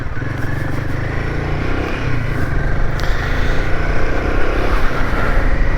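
A Royal Enfield Himalayan 450 motorcycle rides along a coast road, its engine a steady, close, continuous drone with wind rush, gently rising in loudness toward the end.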